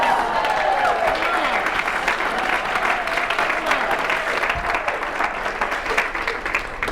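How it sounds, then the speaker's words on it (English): An audience at a public speaking talk breaks into applause, a steady wash of clapping with a faint voice briefly underneath. "Now you clap"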